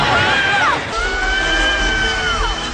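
A film character shrieks while being rescued from villains: two sustained, high wailing screams that glide downward at the end, the second one longer, loud over a dense roar of action noise.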